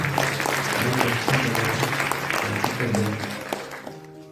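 A crowd in a hall applauds with steady clapping that tapers off near the end, at a Rajyoga meditation talk.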